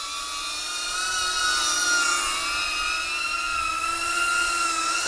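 An OddityRc Mage Pro 3-inch cinewhoop drone in flight, a whining high-pitched propeller buzz with several steady tones that shift slightly as throttle changes, close and continuous.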